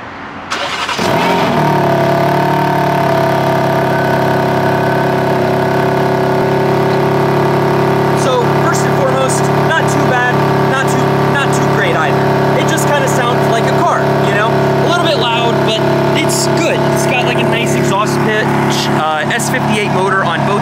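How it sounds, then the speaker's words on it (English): A cold start of a BMW M4 with the S58 twin-turbo inline-six: the starter catches and the engine flares into a loud, steady high idle, droning on with a voice talking faintly over it. "So we're going to be doing a cold start on both of these vehicles"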